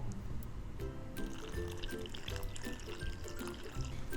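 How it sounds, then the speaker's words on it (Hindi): Water being poured from a cup onto semolina and oat flour in a bowl for a pizza base: a continuous, close trickling pour lasting a few seconds with light splashing. "अब मैं इसको भिगा देती हूँ। मैं पानी यूज़ कर रही हूँ"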